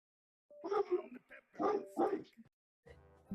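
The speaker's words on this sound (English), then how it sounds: "was that a dog that barked?" A dog barks several times in quick succession, fairly faint and somewhat distant, with short yipping bursts separated by brief pauses.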